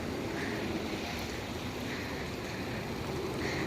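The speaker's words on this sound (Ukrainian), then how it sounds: "Море шуршить." Steady wash of sea surf on the Italian Riviera coast near Genoa, a soft continuous rustling hiss with gentle swells, heard alone with some wind.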